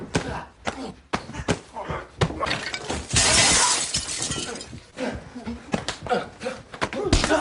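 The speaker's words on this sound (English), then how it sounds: "kicks him through a glass door" Glass shatters loudly in a sudden crash amid a burst of scuffling impacts and thuds, with a few sharp hits before and after.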